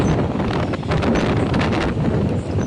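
Strong storm wind buffets the microphone in a constant, roaring rush with slight surges at a mango orchard, and nothing else is heard.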